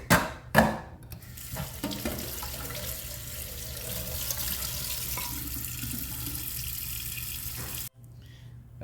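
Running tap water splashing into a sink while food such as chayote, green banana and yam is rinsed, opening with a couple of loud splashes, then a steady stream that stops abruptly near the end, with no speech.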